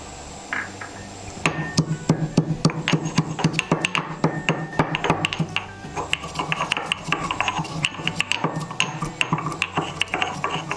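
Cardamom pods for gulab jamun are crushed into powder, heard as a rapid series of close, sharp tapping and grinding knocks with a dense, irregular rhythm that continues throughout.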